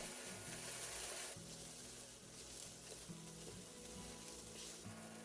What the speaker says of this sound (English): Then add in the garlic and cook them until lightly caramelized.